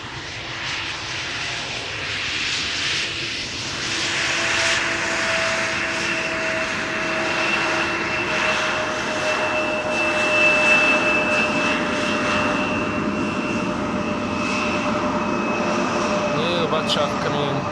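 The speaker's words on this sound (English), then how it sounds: "Embraer 175 in the meantime touching down, arriving from Prague." Embraer 175 jet touching down at Amsterdam Schiphol Airport, a continuous broad engine roar with steady whining tones, holding level at moderate distance throughout.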